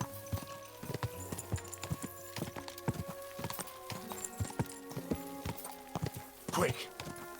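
Horse hooves clip-clopping at a steady walking rhythm in Kingdom Come: Deliverance 2, close and fairly quiet, with a brief snort or whinny near the end and talk in the background.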